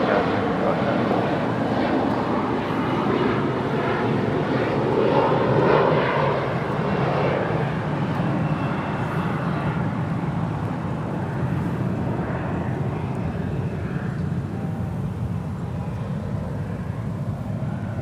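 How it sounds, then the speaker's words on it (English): A Sun Country Airlines Boeing 737-800 arriving from Minneapolis at LAX gives a loud, broad jet engine roar that holds steady for the whole stretch, heard from close range outdoors. "Sun Country Airlines Flight 427 coming in from Minneapolis on the 737-800"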